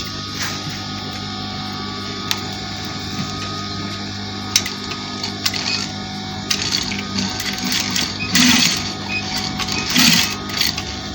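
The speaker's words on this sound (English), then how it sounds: "So this is the Chinese collar we are stitching now." A sewing machine stitches a Chinese collar onto a panel dress, humming and clattering steadily for about eleven seconds with faint knocks along the way and louder rattling bursts toward the end, with no talk.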